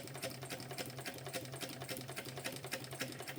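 A servo-motor sewing machine stitches a small backpack, running at a slow, even pace with a rapid regular needle clatter that stays steady throughout, fairly quiet and close, with no talk.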